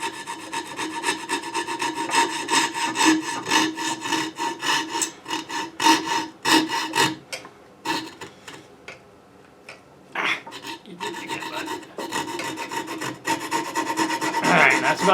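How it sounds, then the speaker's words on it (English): Hand saw cutting through a block of pinewood derby car wood held in a vise, a steady rasping back-and-forth stroke repeated many times up close, with a brief pause before the strokes resume. "we're sawing"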